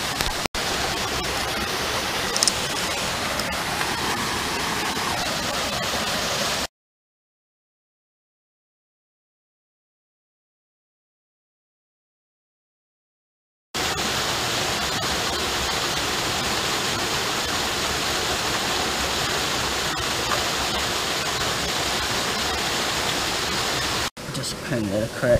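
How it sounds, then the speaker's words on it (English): Steady roaring rush of falling water, loud and continuous, broken by a stretch of complete silence midway before the roar resumes. "that's a nice waterfall"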